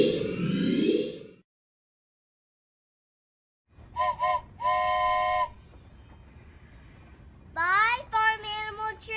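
A toy farm animal train gives a few short electronic whistle toots, then after a pause a longer sliding whistle blast, bright and close, with a low rumble of the toy beneath and no talking.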